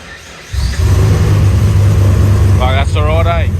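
A turbocharged LS1 V8 car engine cranks and fires from dead cold, then settles into a loud, steady, lumpy idle; a person talks briefly over the running engine near the end.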